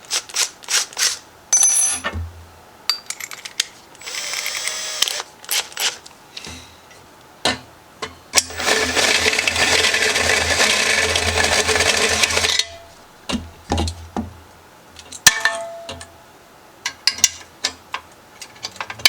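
A drill bores holes in a carriage lantern for wires and a switch, running in one sustained whirring burst of about four seconds, framed by scattered close clicks and clatter from handling the tool and swapping bits.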